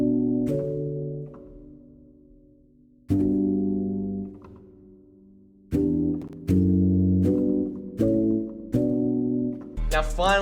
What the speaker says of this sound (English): lastly, I've got this piano pattern, which is the same as that original synth, but it's just in a piano.